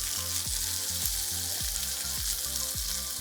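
Paneer cubes sizzle steadily in a hot pan of oil for a Kung Pao paneer dish, a continuous close frying hiss broken by a few soft knocks, with no voices.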